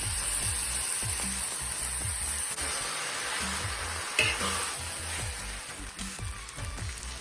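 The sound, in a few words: pad thai noodles sizzling while stir-fried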